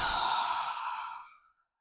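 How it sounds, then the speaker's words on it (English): A single deep breath is exhaled during a carnival-style wine-and-flow dance warm-up, one long, breathy sigh that starts strong and fades out over about a second and a half. "Big breaths in and"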